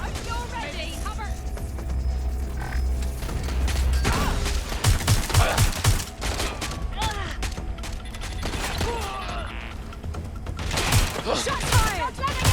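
Sporadic gunfire and impacts during a Watch Dogs Legion firefight, louder bursts in the middle and near the end, mixed with shouting voices and game ambience.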